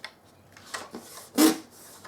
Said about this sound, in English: Give that a good burnish and flip that over.